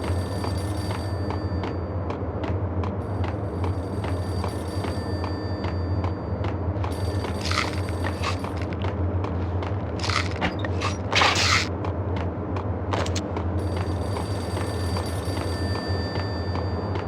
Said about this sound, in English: payphone started to ring.